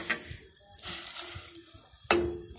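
Chicken pieces going into a pot for chicken corn soup, with soft sizzling and stirring, light clinks of a spoon against the pot and a sharper knock near the end.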